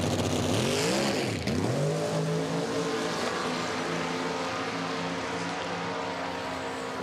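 A 1971 Dodge Dart and a 1968 Ford Mustang drag race at South Georgia Motorsports Park, engines roaring loud and continuous with a sharp pitch swoop as they launch, then a sustained high-revving drone fading slightly, no voices.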